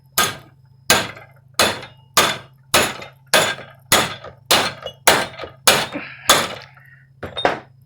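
A hammer strikes a 1962 Chrysler Imperial Crown control arm part clamped in a vise: about a dozen loud, sharp metallic blows at an even pace, each ringing briefly before the next, with no talking.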